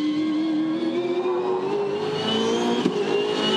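An International Supercar race car accelerates in second gear through turn 12 at the Gold Coast 600 in 2014. Its engine gives a loud, steady, rising drone that runs throughout, heard from the onboard camera.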